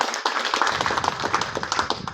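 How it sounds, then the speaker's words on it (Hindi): A school audience breaks into loud, rapid clapping for a student athlete, many hands beating close and energetic through the whole moment. "दिशा के लिए बहुत जोरदार तालियां"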